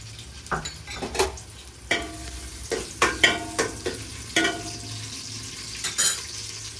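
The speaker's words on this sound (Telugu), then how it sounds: "ముందు ఆనియన్స్ ముక్కలు తయారు చేసి వేస్తున్నాను" Onion pieces dropped into hot oil for a Godavari-style fish curry fry with a steady close sizzle, broken by several sharp clatters of a spoon stirring against the pan; no one speaks.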